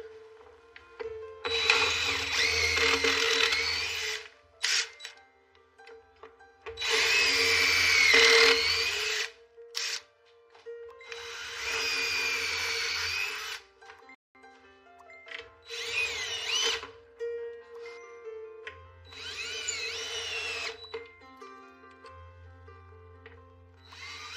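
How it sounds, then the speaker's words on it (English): A power drill whirs in five separate bursts of a few seconds each while drilling holes in a ranch house, with short pauses between them, loud and close. "Now drill the rest of the holes."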